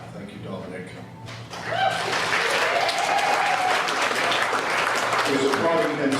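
Applause at a memorial gathering celebrating a life, starting faintly then swelling into sustained clapping from a room full of people, with voices audible beneath it.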